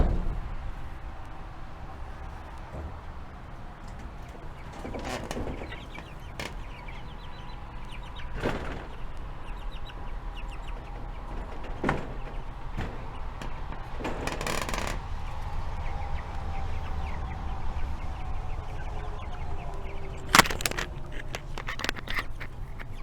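Meat chickens on a farm cluck and shuffle around a pen, with scattered short clucks, pecking clicks and rustling over a low background, plus an occasional sharper clink.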